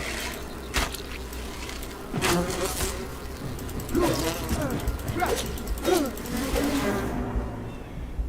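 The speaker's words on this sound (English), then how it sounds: "Those bees really hurt." Swarming bees buzz through a fantasy survival game, a steady insect drone with sharper swells as they close in, overlapping with combat effects and someone talking.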